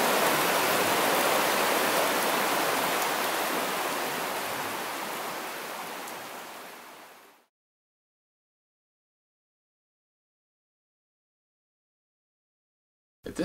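A forest stream in the Pennsylvania backcountry rushes in a steady, full wash. It fades away after about seven seconds into silence, and a faint sound returns at the very end.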